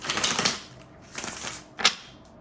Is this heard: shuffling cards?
yes